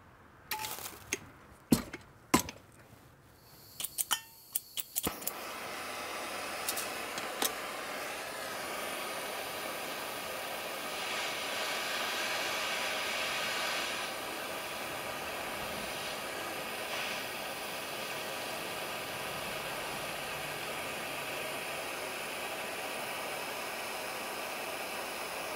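A spot weld made with a Harbor Freight QTR 60 spot welder is heated red hot to anneal it. A few sharp clicks and taps come first, then a steady, even hiss of heating runs on unbroken to the end.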